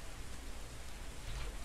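Rain falls steadily in a forest, a dense even patter filling the short stretch with no voices.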